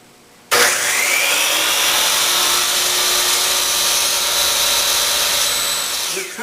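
A compound miter saw trims a wooden furniture part to exact length, starting abruptly and holding one loud, steady, high whining cut for about six seconds with no talking.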